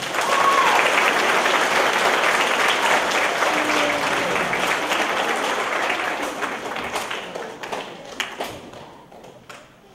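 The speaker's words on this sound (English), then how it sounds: "let's give Higginsville a round of applause" Steady, dense applause from a crowd fills most of the clip, then thins into scattered claps and taps before fading out near the end.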